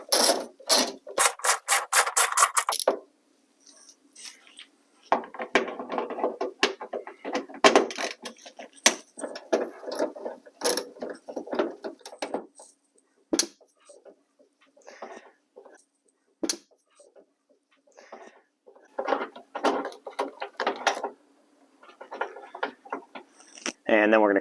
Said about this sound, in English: Just take a 10mm socket and an extension and a ratchet, and we're going to take these two 10mm bolts out.